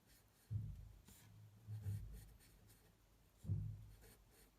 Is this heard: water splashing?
no